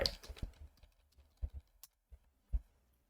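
A few quiet, irregular keystrokes tap on a computer keyboard as a password is typed, with sparse isolated clicks separated by short pauses.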